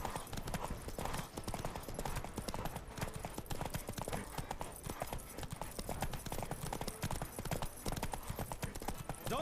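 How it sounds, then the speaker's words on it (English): A horse galloping in The Witcher 3, with a rapid, steady clip-clop of hooves running throughout, continuous and fairly close, with faint speech occasionally underneath. "Don't spare the horse!"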